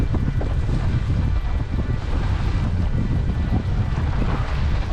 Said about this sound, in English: We've been having 30, 35 mile an hour gusts.